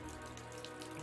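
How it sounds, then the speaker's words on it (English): Accelerant pouring into a fireworks shop basement in the adventure game Deponia Doomsday, a steady liquid stream splashing and trickling continuously, fairly faint with no voices. "Rufus, do you think you could stop pouring accelerant into the basement of my fireworks shop?"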